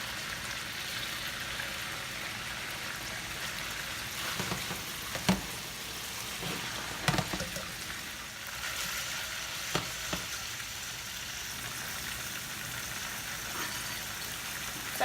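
Tofu sears and fries in a hot pan with green beans in a Szechuan-style dish, a steady close sizzle broken by a few brief clinks and stirring knocks, with no talking.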